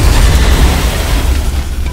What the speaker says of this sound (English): Well, we can lob a grenade, that's for certain